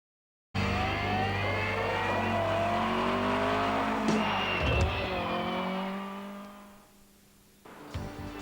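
Sprint cars race on a speedway at a championship round, engines roaring loud and continuous with high revving harmonics, the pitch swelling and fading as cars pass, then dropping away before another surge near the end.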